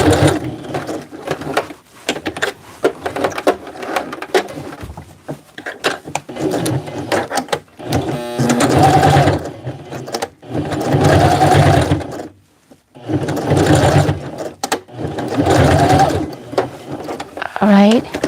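A sewing machine stitches fabric for a Hmong baby carrier in several bursts of a few seconds each, separated by pauses. Near, loud mechanical whirring alternates with short gaps.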